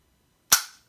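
A single sharp, close metallic snap from an AR-15 rifle's Rave140 trigger being dry-fired, with a short fading tail and silence on either side.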